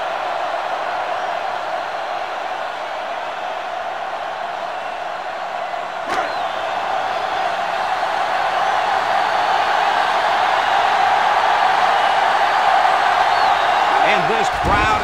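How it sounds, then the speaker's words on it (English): A stadium crowd at a South Carolina vs. Clemson football game in NCAA Football 2005 roars steadily and swells louder toward the end, with a brief sharp thud partway through. "this crowd is going crazy"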